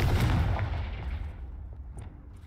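The Bombarda spell in Hogwarts Legacy goes off as a single loud, heavy blast with a booming burst, then rolls into a long fading rumble and debris tail, no fire crackle, with no voices over it.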